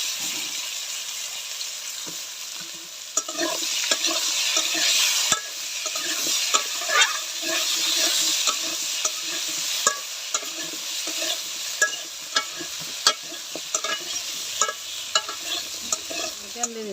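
Potato and aubergine pieces fry in oil left from frying fish, a steady sizzle broken by frequent stirring scrapes and taps of a utensil in the pan.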